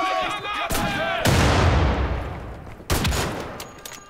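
Shotgun blasts roar in the shooter game Wolfenstein: The Old Blood, with two heavy booms that ring out and decay, plus a few short sharp sounds and some game noise around them.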